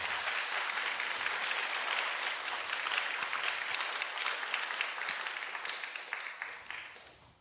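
A church congregation at a Korean Sunday service applauds a couple about to marry, sustained even clapping from a large room that holds steady and fades slightly at the end.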